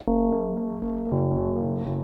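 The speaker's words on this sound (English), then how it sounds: "I do actually have a proper reverb, but it's also kind of a weird reverb, which is the Versio." A Noise Engineering Versio reverb module processes a sustained synth tone, giving a steady, buzzy held note that shifts pitch once midway and carries a faint reverberant wash, alone.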